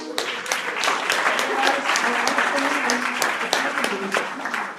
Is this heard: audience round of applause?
yes